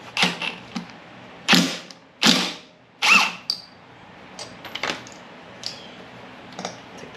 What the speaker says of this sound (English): Let's take the flywheel off.